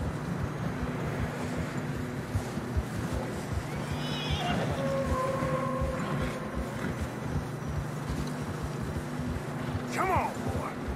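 Horses in the Red Dead Redemption 2 video game on a snowy, narrow trail, with a couple of whinnies and neighs over soft plodding hooves and wind, mixed with low talk.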